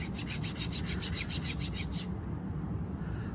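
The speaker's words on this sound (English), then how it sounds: "I'm going to tilt this up like this, and I'm going to use it on this rasp." Wax carving rubbed on a rasp, a quick series of about ten rhythmic scraping strokes, close and clear, stopping after two seconds with a low background hum continuing.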